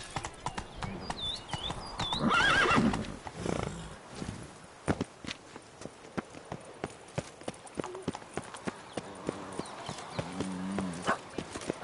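Horse hooves clip-clopping steadily at a gallop in the video game Witcher 3, a close, rhythmic run of hoofbeats with a whinny and a brief shout over the top.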